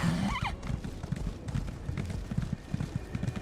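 A horse in the video game Elder Scrolls Online gives a short rising whinny, then its hooves clip-clop in a quick steady rhythm as it sets off, moderately loud and close.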